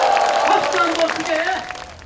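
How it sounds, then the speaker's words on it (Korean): A crowd at a ceremony applauds loudly, a broad steady wash of clapping with a voice sounding over it and fading toward the end. "박수 한번 크게."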